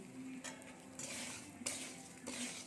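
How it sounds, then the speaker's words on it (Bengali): Gobindobhog rice is stir-fried in a pan with a spatula, scraping strokes against the metal over a soft steady sizzle, close and fairly quiet. "চলুন বন্ধুরা একটু চালটাকে আমরা ভালো করে ভেজে নিই"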